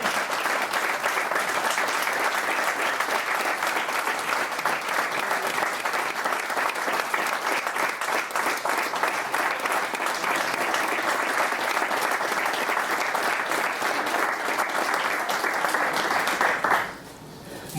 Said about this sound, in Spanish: darle un aplauso al autor